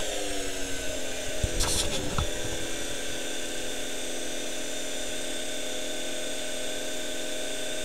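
A fuelless generator rig runs with a steady, loud electrical whine and hum holding constant pitch, interrupted briefly near the start by a few clicks and a short crackling burst as it is switched on.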